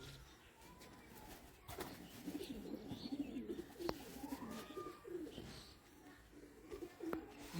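A pigeon coos softly at close range, giving repeated low throaty calls with a few quiet chirps among them, while someone speaks nearby in a quiet room.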